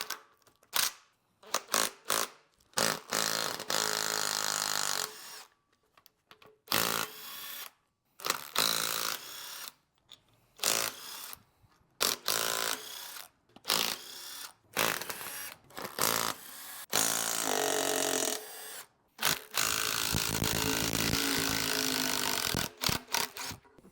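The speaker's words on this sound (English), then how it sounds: "We're gonna pop the intake bolts off of this." Engine intake bolts being removed with a power tool, in repeated loud bursts of whirring and ratcheting separated by short pauses, with no talk over it.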